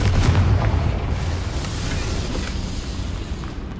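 A Confringo blasting spell bursts in Hogwarts Legacy, inside a goblin mine. It gives a loud, sustained booming roar heavy in deep rumble that slowly fades over several seconds.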